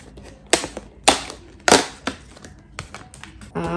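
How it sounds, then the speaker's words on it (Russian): Perforated cardboard heart being torn open on a LOL OMG doll box, several sharp close tearing rips and crackles spaced irregularly over a few seconds, with no talking. "Так, кстати, не сказать, что очень аккуратно отрывается. Открываем наше сердечко."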